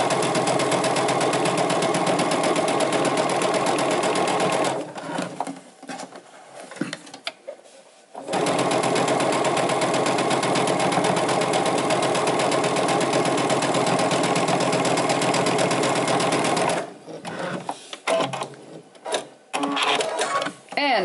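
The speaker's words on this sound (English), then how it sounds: "I'm gonna just go right into my other block with chain piecing." A sewing machine chain-pieces fabric blocks for a soup bowl cozy, running in a loud, steady whir for long stretches, with two quieter breaks filled with small handling noises in between.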